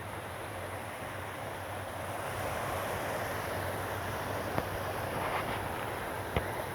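Water from a mountain creek in the rainy Sierra Madre rushes steadily as a broad, continuous wash, with a couple of faint knocks near the end.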